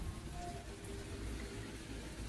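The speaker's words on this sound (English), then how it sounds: "Okay, so now the rain's kind of flying in." Rain blowing in onto a porch, a steady broadband wash of falling and spattering drops that stays even and fairly close throughout, with no talk.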